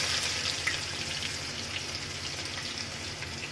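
Chopped onion hits hot oil already crackling with whole spices and mustard seeds for veg pulao, giving a steady, even sizzle with fine spattering that holds the whole time.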